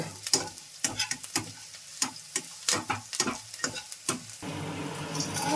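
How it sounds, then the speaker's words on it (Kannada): Garlic, green chillies and curry leaves frying in a pan, with a series of sharp stirring clatters and crackles in the first seconds, then a steady, denser sizzle toward the end. "ಬೆಳ್ಳುಳ್ಳಿ ಮೆಣಸಿನ್ಕಾಯಿ ಕರಿಬೇಕು ಹಾಕಿ ಇದು ಮೊದಲು ಫ್ರೈ ಮಾಡಬೇಕು ಚೆನ್ನಾಗಿ"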